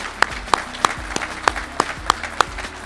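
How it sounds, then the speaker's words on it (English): Sparse, evenly spaced claps at an agriculture awards banquet in a convention center, honoring the caterers; a handful of distinct sharp claps stand out over a quieter background murmur of the room. "Let's give the caterers a round of applause in the convention center."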